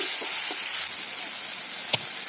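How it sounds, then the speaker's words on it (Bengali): Tomato and ginger frying in oil in a pan, a soft steady sizzle close by with a few faint spatula taps and one sharper scrape near the end. "টমেটো আর আদাটাকে খুব ভালো করে কষে নেব"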